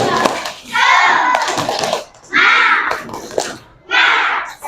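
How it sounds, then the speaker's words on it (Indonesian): An Indonesian grade 4 class of children performs a rhythmic spirit clapping chant in a classroom, loud bursts of claps and shouted voices in three clustered rounds, with gaps between. "Tepuk semangat."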